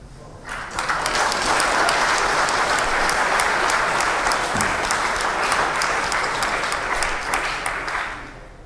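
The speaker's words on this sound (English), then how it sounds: "Why are you applauding that?" An audience at a debate on Palestine breaks into loud, sustained applause, dense clapping that swells quickly, holds for several seconds and then fades.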